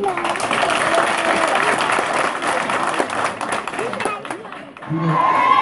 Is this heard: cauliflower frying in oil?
no